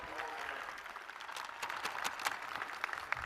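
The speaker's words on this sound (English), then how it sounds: "please show your thanks and applaud these dedicated individuals who have guided you along your" Graduates applaud faculty at the Georgia Southern fall commencement ceremony, a dense, steady crackle of clapping from a large crowd that holds at an even level throughout, with sharper individual claps popping out near the end.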